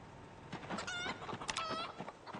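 Leghorn chickens clucking in the video game Project Zomboid, a few short, close clucks and squawks in quick succession over faint background noise.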